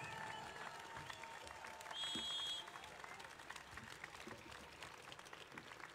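Audience applause at a Bratislava rally as an actress comes onto the stage, a steady wash of clapping from a large crowd that swells briefly and then holds on.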